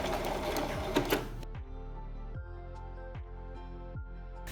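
Sewing machine running a line of stitching around the perimeter of a fabric baby nest cocoon, a rapid close mechanical hum that slows into a few distinct, regularly spaced stitch clicks, with no talking.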